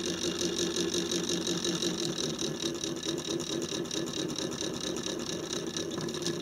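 A synchronous motor runs at about 50 Hz, giving off a steady, close whirring hum with a fast, even pulsing rhythm that continues unchanged throughout.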